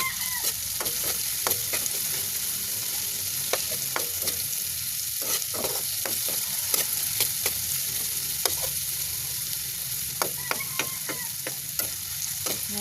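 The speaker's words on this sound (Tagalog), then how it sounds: "Haluin lang para hindi agad maluto, matosta." Food stirred while toasting golden brown in a frying pan for a home-cooked lunch dish: steady oil sizzle runs throughout, with frequent sharp scraping and clacking strokes of a utensil against the pan, close and continuous.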